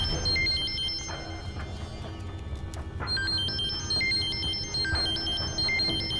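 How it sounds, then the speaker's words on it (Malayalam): A mobile phone ringtone plays loudly and close, a repeating electronic melody of stepped tones that cycles on without pause through the whole stretch. "உன் போன் தாண்டா அடிக்குது, எடுத்து தொலைடா"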